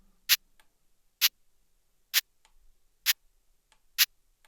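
Synthesized shaker percussion played in Logic Pro X: five crisp, bright shaker hits fall at an even pace about a second apart, each followed by a fainter ghost hit, with silence in between.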